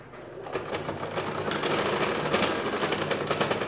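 A sewing machine topstitches around a cargo pocket on a child's bermuda shorts, humming steadily and rapidly up close with a continuous buzzing rattle.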